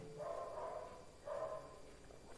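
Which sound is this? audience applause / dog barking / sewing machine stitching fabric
dog barking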